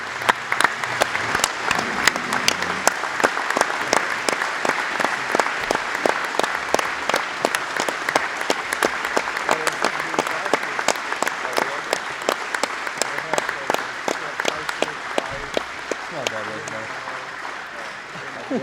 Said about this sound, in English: Please give a huge round of applause to D. Wild.